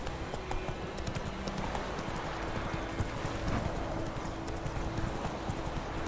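Horse hooves in The Witcher 3 make a steady, loud clip-clop at a trotting rhythm. It runs continuously over outdoor ambience with no talking.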